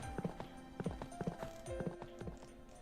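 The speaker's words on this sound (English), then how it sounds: "Yes, we have horses that can go fast." Horses in Fate/Grand Order running fast, with rapid rhythmic hoofbeats in quick clusters, close and fairly loud, plus a brief whinny-like tone over them.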